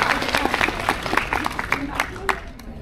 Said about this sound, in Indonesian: kita kasih tepuk tangan buat mereka semua dulu